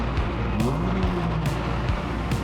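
A Renault Clio 172 engine revs up and falls in pitch in short rising and sinking sweeps over a busy, loud background roar, heard close.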